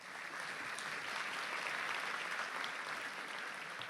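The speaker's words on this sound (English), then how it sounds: "So let's give them a round of applause." Round of applause from an audience at a health-care event, a steady, even roar of many hands clapping heard from a distance and fairly soft, with no talking over it.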